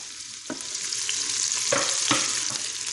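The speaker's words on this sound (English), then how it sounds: "So in go the aromatics. Give them a little stir." Aromatics hit hot bacon grease in a pan for roasted pumpkin soup with bacon and potato, bursting into a loud, steady sizzle, with a few sharp scrapes of a utensil stirring them up close.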